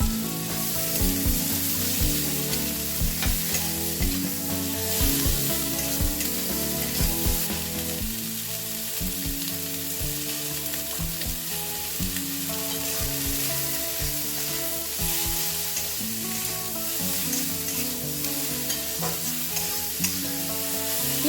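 Chicken 65 ingredients sautéing in a pan, loud continuous sizzling with frequent clattering stirs and spatula scrapes in an irregular rhythm, close up and without speech.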